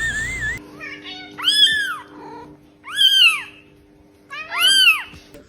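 A house cat meows three times, loud and close, each call rising and falling, with quiet pauses between them and a brief burst of noise at the start.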